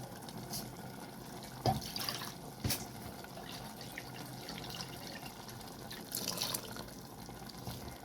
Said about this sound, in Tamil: இதில் கொஞ்சம் தண்ணி சேர்த்து ஊற்றுறேன்